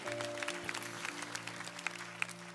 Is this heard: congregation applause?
yes